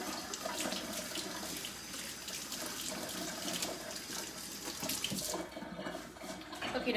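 Hands being washed under a running kitchen tap to rinse off sticky cookie dough, with a steady, close splashing of water into the sink that continues throughout without any talking.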